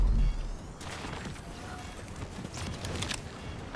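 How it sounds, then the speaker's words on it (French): Footsteps in a battle royale video game: a quick series of crunchy, uneven steps with sharp clattering transients, moderately close and heard alone. "J'ai les bruits de pas."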